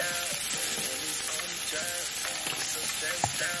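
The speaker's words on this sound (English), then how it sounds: "I add in the vegetables and then the pesto sauce." Vegetables and pesto sauce sizzle steadily in a hot pan, a dense, continuous crackling fry with occasional stirring scrapes, close and fairly loud.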